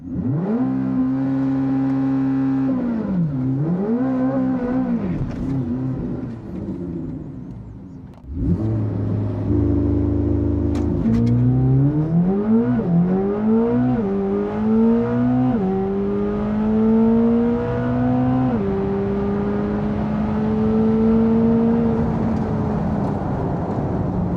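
Chevrolet Corvette C8 ZR1 making a full-throttle quarter-mile dragstrip run, engine roaring up through rising revs with a brief drop at a gear change before climbing steadily, loud and close throughout.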